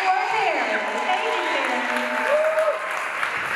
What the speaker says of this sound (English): So please, one more round of applause